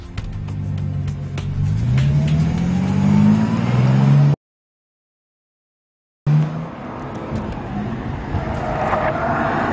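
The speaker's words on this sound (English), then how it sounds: "driving this new extreme Bentley around this phenomenal track" Bentley Supersports engine revving and climbing through gears while accelerating around the Nürburgring, loud and close, with a short gap of silence midway before the engine roars on again.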